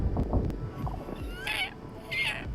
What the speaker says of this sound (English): Bird noise.